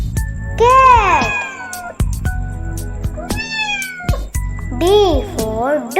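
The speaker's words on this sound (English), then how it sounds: "C for cat." Several clear, loud cat meows with bending pitch come in quick succession, mixed with light jingling and child-like speech sounds in a children's alphabet song.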